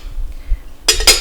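An antique Pyrex glass dish with its lid is handled, giving two sharp close glassy clinks in quick succession after a quiet moment.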